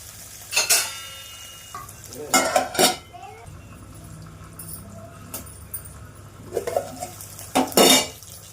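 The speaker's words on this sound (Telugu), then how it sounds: "మెంతం కూడా కూడా వేసేసుకొని కాసేపు నూనెలో ఉడికిద్దాం" Fenugreek seeds and coriander cook in hot oil in a pan while wheat rava upma is made. A spoon clatters and scrapes against the pan in short bursts over a low, quiet sizzle.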